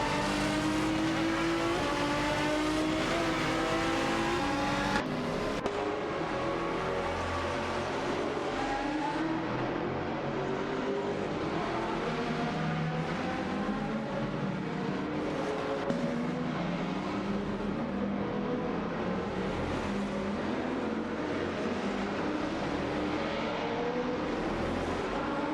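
Race cars in an AI racing video game, engines whining and revving as they pass through a turn, with pitch rising and falling across overlapping cars in a continuous, fairly loud roar.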